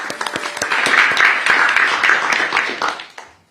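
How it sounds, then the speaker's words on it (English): Audience applause at a New York City press event on a free childcare plan, individual claps rising into a steady round that tapers off and stops near the end. "If we can give them a round of applause."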